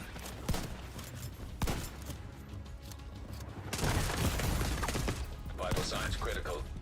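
A rogue artillery turret opens fire in The Division 2 video game, with loud sharp blasts and a sustained roar of heavy gunfire and mechanical clatter that swells toward the end, while game voices are faintly mixed in.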